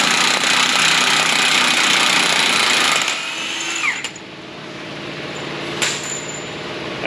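A loud power tool whirs steadily while removing a 36 mm axle nut in a car repair shop, then winds down, with a few sharp metallic clanks following.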